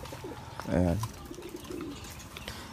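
Racing pigeons being entered in a one-loft race coo in a short low burst, close and fairly clear, with someone talking before and after over a quiet room background.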